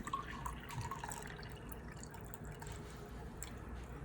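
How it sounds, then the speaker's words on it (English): Tap water that tomatoes were soaked in is poured out, a faint, quiet trickle and dripping with light splashes over a few seconds. "I'm just gonna pour out the tap water where the tomatoes were soaked in"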